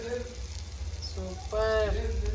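An omelette sizzles in oil in a pan with a steady, broad frying hiss, while a voice speaks briefly over it.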